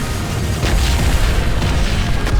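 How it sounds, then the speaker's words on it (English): A corrosion mortar firing in the strategy game Siege of Centauri gives off a loud, continuous wash of deep booms and rumbling blasts, dense and close, with no talking over it. "Take advantage of what range I got in the corrosion mortar"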